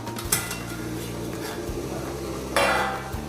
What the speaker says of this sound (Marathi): आता झाकण खुलून पाहू